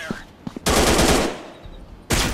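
Machine gun fire in a video game: a loud close burst of rapid rattling shots lasting over a second, another burst starting at the end, with a few short sharp sounds before.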